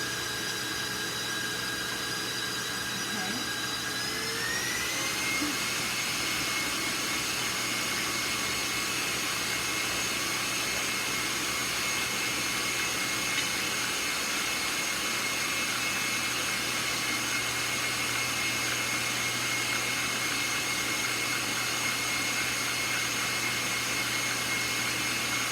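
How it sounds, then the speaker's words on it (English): An electric mixer beating chocolate chip cookie dough at medium-high speed, a loud, steady whirring drone whose motor pitch rises slightly in the first few seconds and then holds constant, close and alone, with no talking. "You want to run that, mix that about 2 minutes on a medium to high speed."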